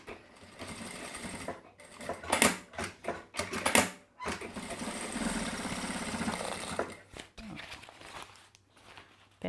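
A sewing machine stitching fabric for a decorative panel, running in bursts of rapid mechanical whirring with short pauses between runs, close and fairly loud, a voice talking briefly between stitches.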